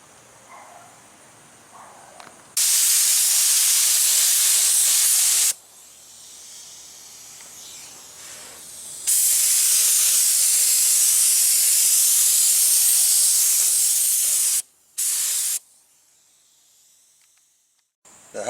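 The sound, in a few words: spray painting a Camaro brake booster in the engine bay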